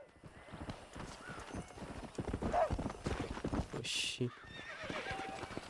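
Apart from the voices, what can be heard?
horse galloping in Red Dead Redemption video game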